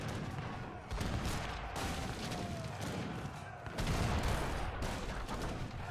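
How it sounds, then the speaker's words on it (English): Mortar shots and scattered gunfire from an Age of Empires III treaty match, with dense overlapping bangs and rumbling over a battle din, under a caster's commentary. "another mortar shot, and then the barrack will be going down"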